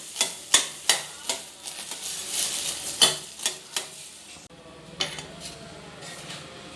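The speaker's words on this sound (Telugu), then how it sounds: "ఆయిల్ హీట్ అయ్యాక నేను 3 ఎగ్స్ తీసుకున్నానండి. ఫస్ట్ దీనిలో వేసేసుకుందాం 3 ఎగ్స్." Three eggs sizzling softly in hot oil in a pan while several sharp clinks and taps of a utensil against metal ring out, close by.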